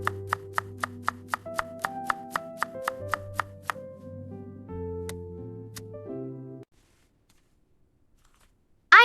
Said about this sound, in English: I cut the vegetables.